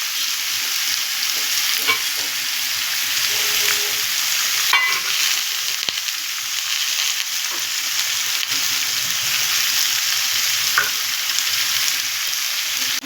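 Boiled jackfruit frying with salt and turmeric in a pan, a steady loud sizzle running throughout with occasional scrapes and knocks of stirring, no voices.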